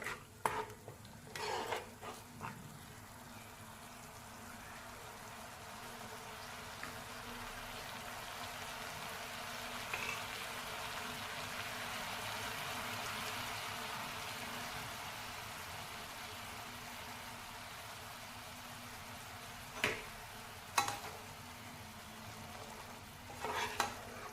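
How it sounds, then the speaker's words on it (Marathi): Gram flour gravy cooking in a pan, a soft steady sizzling bubble at low level with a few scraping clinks of a spoon near the start and end. "आणि आता ही ग्रेव्ही आपण उकळून घेणार आहोत"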